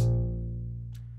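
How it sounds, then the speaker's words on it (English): A single sustained double bass note, deep and resonant, sounding close and decaying slowly over about a second with no voices present. "So this is a sound of a double bass."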